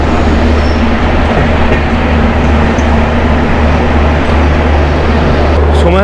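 The Ranchi-Howrah Intercity Superfast Express pulls into Muri Junction, a loud, close, unbroken roar of wheels and carriage rumble with a steady low hum, and a voice speaking over the train noise.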